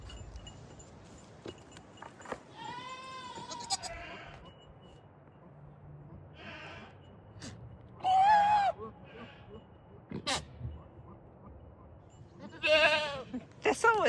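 Goats on a farm bleat in short, wavering calls, a few separate bleats spread across a quiet barnyard, some close and some farther off, with a person speaking softly between them.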